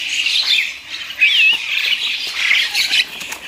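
Caged birds, newly arrived stock at a bird market stall, squawk and chirp in sharp, repeated shrill calls close by, with short bursts overlapping and no talking.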